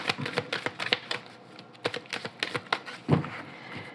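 A deck of tarot cards being cut and shuffled, with a rapid series of light, crisp card clicks and taps in an irregular rhythm, close and fairly quiet, without talking.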